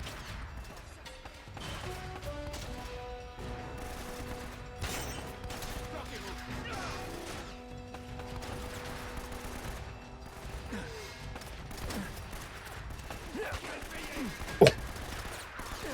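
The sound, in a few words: gunfire from a new weapon in the Uncharted video game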